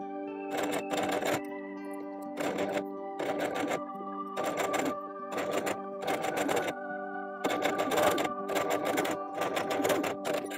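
A sewing machine stitches along the edge of a blouse cuff in a series of steady mechanical bursts, each run a second or so long and separated by brief pauses, close and clear with no talk.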